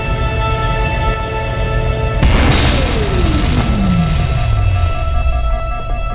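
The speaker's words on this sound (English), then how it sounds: "The pulse generator has overloaded." In Halo CE, a pulse generator overloads from an EMP burst: a sudden loud crash erupts over a constant electronic hum, then a long descending whine winds down over several seconds.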